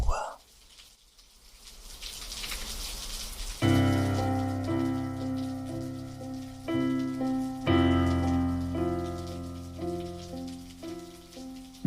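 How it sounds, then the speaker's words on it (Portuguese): Steady rain patters and hisses alone for a few seconds, then soft sustained music comes in over the continuing rainfall. "relaxaremos ao som da chuva"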